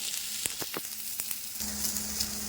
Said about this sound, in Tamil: வடச்சட்டியில் கொஞ்சம் அளவாக எண்ணெய் தேவையான அளவு கொஞ்சமாக எண்ணெய் ஊற்றிட்டு வெங்காயம் சின்ன வெங்காயம்